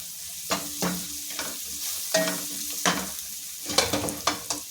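Potato fry sizzling in a pan with coriander while a spoon stirs it, giving repeated scraping clatters in an uneven rhythm over a steady close frying hiss.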